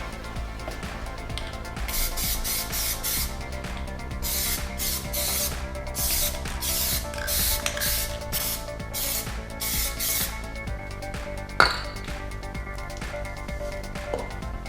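Aerosol can of Plasti Dip sprayed onto car wheels: a series of repeated hissing spray bursts of a second or so each, close and steady, with a sharp clack near the end.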